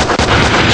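A loud, close blast fills the whole moment from the mobile game Save Dan, a dense, sustained boom with a brief dip near the start and no voices over it.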